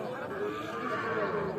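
A young heifer calf moos at a busy cattle market, a drawn-out bovine call rising over a murmur of crowd voices and general market noise.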